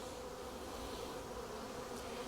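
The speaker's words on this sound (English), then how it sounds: "these bees are fanning to let the other bees that are still flying around, hey, the queen is in here" Honeybees fanning at a hive entrance after a rehomed swarm, a steady close buzzing drone that holds evenly throughout with no voices.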